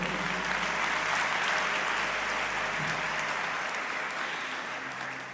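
Congregation in a church clapping together, a dense sustained wash of applause that holds steady and tapers slightly near the end, with no voices over it.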